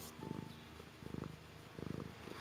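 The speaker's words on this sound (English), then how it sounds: "Big purrs." A cat purrs in three close, steady rumbling bursts, each about half a second long, with short pauses between them, heard alone.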